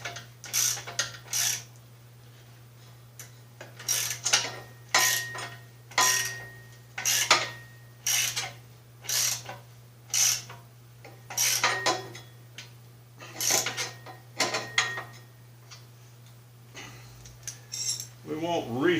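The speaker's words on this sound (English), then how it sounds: "I gotta put a wrench on this side" A wrench ratchets on a bolt on the front end of a Snapper rider mower, sounding as a series of short metallic clicking bursts at a steady working rhythm with a constant low hum underneath.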